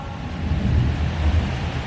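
Wind and ocean waves on a white-sand beach: a steady, low rushing roar with a continuous broadband wash and no distinct breaks, heard alone.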